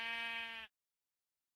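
A single sheep bleat from Minecraft, one harmonic, wavering cry lasting under a second, loud and close, followed by silence.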